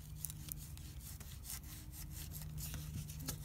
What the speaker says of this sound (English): she's just going along with the putty knife to release the sticky stuff, the adhesive, that's on this window pane or glazing